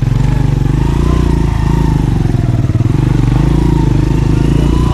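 Motorcycle engine droning steadily and loudly at close range while riding along a road from Islamabad toward Gujranwala, with no talk.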